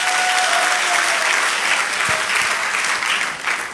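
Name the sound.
audience applause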